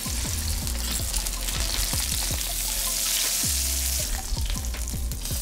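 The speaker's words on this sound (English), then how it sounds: "Get our pan nice and hot. Avocado oil, and in with the steak." Steak sears in a very hot pan with avocado oil, a loud, steady sizzle and crackle with small pops throughout.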